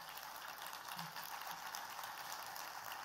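An audience at a speech keeps up continuous applause, a dense, even wash of many hands clapping together at moderate distance, with no voices.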